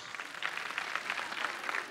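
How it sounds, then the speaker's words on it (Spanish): A studio audience on the Venga Conmigo game show applauds a contestant couple in the La pareja dispareja contest, a brief, even burst of crowd clapping heard alone and at moderate loudness. "Aplauso para la pareja número 1."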